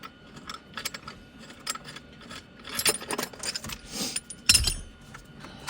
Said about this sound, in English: I'm gonna loosen these bolts